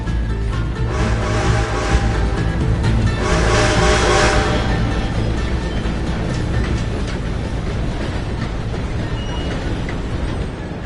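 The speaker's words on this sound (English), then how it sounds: "Gotta beat that train, Morgan!" Train passing in Red Dead Redemption 2, a loud continuous rumble with rattling wagon noise and a brief high squeal, steady at first and fading slightly toward the end, no voices.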